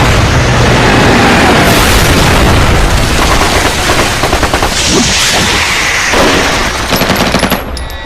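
Heavy machine gun fire rattles in loud, rapid continuous bursts mixed with booms and explosions, forming a dense, sustained barrage throughout.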